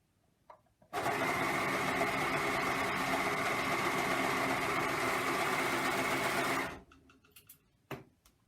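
A sewing machine stitches patchwork fabric squares for a stretch-fabric hoody, running in one loud, steady continuous whir for about six seconds before stopping, followed by a few small clicks and handling noises.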